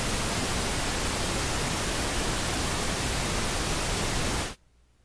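Steady pink noise test signal, loud and continuous with even broadband hiss, cutting off abruptly near the end into silence.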